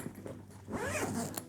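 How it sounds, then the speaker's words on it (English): The main compartment zipper of a Tortuga Pro V2 travel backpack is pulled in one smooth, close zip lasting about a second. "I really like the zipper pulls that Tortuga uses"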